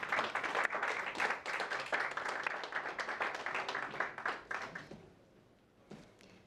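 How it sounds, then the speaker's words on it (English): Round of applause from an audience honouring the speakers at a Gulbenkian Foundation humanity prize event, dense clapping for about five seconds before fading to a few scattered claps. "I ask a big round of applause for our extraordinary speakers"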